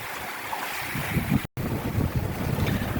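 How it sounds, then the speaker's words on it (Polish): A ship passing at a distance on the open Atlantic near Lanzarote, heard from aboard a sailing yacht, with a steady low rumble mixed with wind across the microphone and washing waves. "A tu jeszcze jedno ujęcie na ten statek, co go mijamy."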